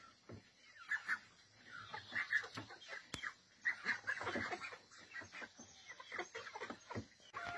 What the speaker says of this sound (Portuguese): vou mostrar para vocês como eu faço aqui para soltar minhas galinhas aqui